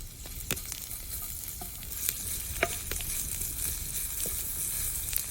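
Onion strips frying in oil on a tava, a steady soft sizzle with scattered sharp pops and crackles, fairly quiet and close, no voices.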